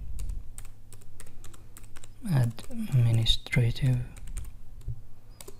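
Quick taps on a computer keyboard come as a search term is typed into a search box, the light clicks running steadily under a voice.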